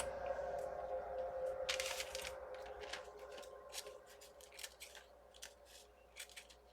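Scissors snip a paper napkin repeatedly at close range, crisp cutting bursts with short pauses between them over a low steady background hum.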